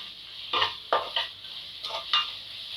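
Mint leaves sauté in a pan over a high flame for a mushroom biryani: a faint sizzle under five or six distinct scraping stirs of a utensil against the pan.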